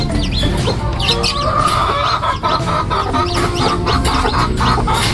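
Several chickens clucking and chattering nearby, a busy, continuous flock sound with overlapping calls and no talking.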